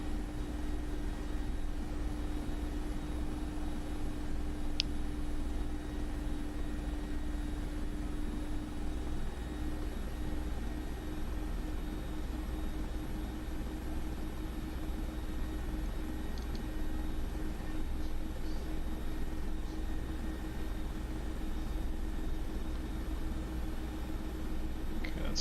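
A Mi-24P Hind helicopter hovering in the DCS flight simulator makes a steady, even rotor and turbine drone that stays unchanged and unbroken throughout, with no voices.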